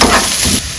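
Chopped garlic sautés in hot oil for a Chicken Majestic starter, a brief close sizzle with stirring scrapes that drops off sharply near the end.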